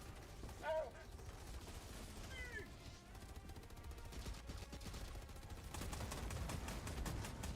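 Gunfire in the Helldivers 2 game, rapid mechanical clatter and repeated shots that grow denser and louder toward the end, mixed with a few short squeaky in-game sounds.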